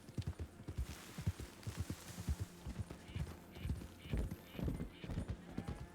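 Horse hooves clip-clop in a steady rhythm, close and fairly loud, as a horse moves along in a ranch roleplay video game, with faint background hum.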